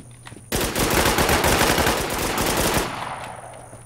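Gunfire in the video game Infestation: after a short quiet moment, a loud rapid burst of automatic fire rattles for about two seconds, then cuts off and leaves a fading tail.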